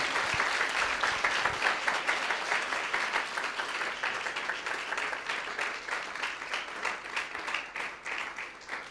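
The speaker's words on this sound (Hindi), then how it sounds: "जोर से ताली बजाकर प्रभु को धन्यवाद दें।" A church congregation claps loudly in thanks to the Lord, a dense, steady wash of applause from many hands lasting throughout with no speech over it.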